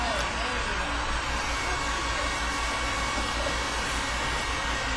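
A hair dryer running steadily in a classroom-style science demonstration, a continuous loud broadband whoosh with a low hum that holds unchanged for the whole stretch, with no clear speech over it.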